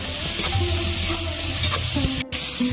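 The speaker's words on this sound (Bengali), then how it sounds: "পেঁয়াজ টমেটো আমার গরম গলে গেছে আর লঙ্কার গুঁড়ো" Onion and tomato sizzle hard in hot oil with chili powder, a dense continuous frying hiss broken by stirring scrapes and a brief pause near the end.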